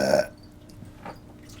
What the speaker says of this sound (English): That's my favorite belch.